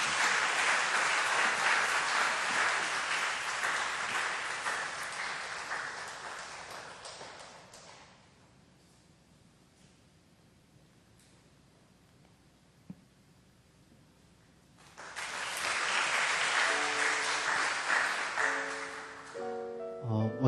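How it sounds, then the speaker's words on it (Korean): A church congregation applauding during a Sunday service: a burst of full, warm clapping that fades out, a quiet pause with faint rustling, then a second round of clapping rising again near the end as music begins. "수고했다는 마음으로 박수로 좀 환영해 주셨으면 좋겠습니다."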